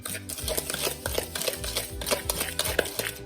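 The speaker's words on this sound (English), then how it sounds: "I'm gonna mix that thoroughly" Olive oil is mixed into a sugar-based candy cane scrub in a bowl, giving quick, rhythmic scraping and clinking strokes, close up, with a tonal background hum or music underneath.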